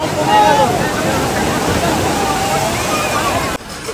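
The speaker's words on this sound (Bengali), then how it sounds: "ওরে বাবা, ওই ঢেউটা দেখো।" A steady roar of sea waves and surf washing in at crowded Digha beach, West Bengal, at high tide, with people talking faintly underneath.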